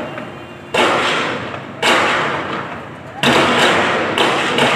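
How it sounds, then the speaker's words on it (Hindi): Three or four sharp, loud cracks ring out at uneven intervals, each followed by a reverberant decay, like gunfire echoing between buildings. "सर मेरे सामने गोलियां चल रही हैं।"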